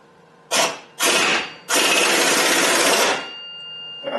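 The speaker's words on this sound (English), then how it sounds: "So now I'm going to use an impact to drive this." An air impact wrench drives the bearing out of an idler or belt tensioner pulley in three close, loud bursts, the last one running longest, with no talking.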